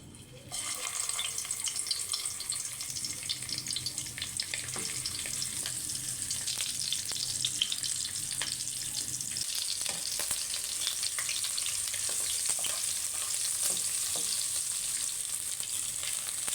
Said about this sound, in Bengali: এবার আমি এগুলোকে ফ্রাই করে নেব। তেল গরম হয়ে গেছে। এবার আমি চিকেনগুলো দিয়ে দিচ্ছি।